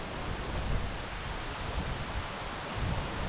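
Steady roaring rush of water from a waterfall in the bush, broadband and continuous with no breaks, heard from a moderate distance and fairly quiet overall.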